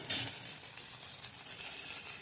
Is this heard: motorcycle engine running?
no